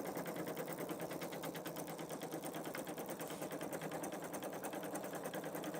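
A Pfaff Creative Vision embroidery machine stitches steadily with a rapid, even needle rhythm and a crunchy, rough texture, loud and close throughout.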